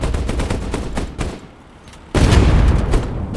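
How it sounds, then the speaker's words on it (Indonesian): A pirate ship explodes in the naval video game Age of Water, loud rapid gunfire-like bursts and booms that fade briefly, then erupt into a sudden dense, heavy blast that carries on. "Oke, meledak ya."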